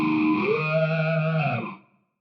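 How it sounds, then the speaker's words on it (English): Talkbox-style guitar effect from a Fractal FM3 preset, heard bypassed on its own: a single distorted, vowel-like note that sweeps and shifts its tone like a mouthed word, holds for about a second and a half, then fades out. "with that bypass, we can hear just the Talkbox signal"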